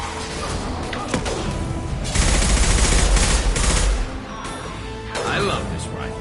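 A sustained burst of rifle fire roars for about two seconds during a Mass Effect 2 battle, loud and dense, followed by a shorter volley while combat noise and voices continue around it.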